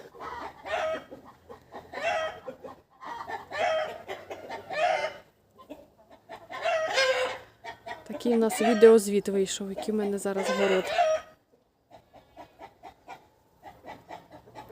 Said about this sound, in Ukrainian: Півень верещить.